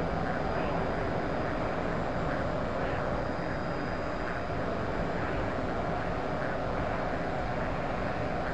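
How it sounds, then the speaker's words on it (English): Enemy aircraft engines roar as planes take off in the DCS Marianas flight simulator game, a loud, constant drone filling the whole stretch without letup or voices. "we have enemy aircraft taking off"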